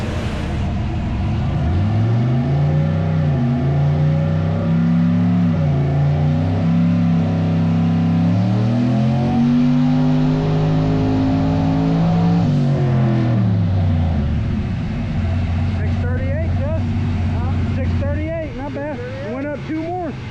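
A car's engine climbs and falls through a long sustained wide-open pull on a dyno, loud and close, then settles to a steady drone before fading, with people talking over the end.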